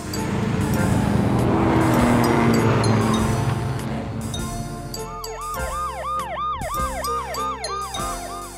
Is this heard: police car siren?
yes